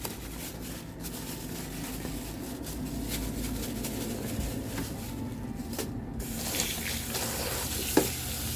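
Running tap water pours steadily into a sink while smoked fish is rinsed, a continuous close splashing hiss with a small clunk near the end.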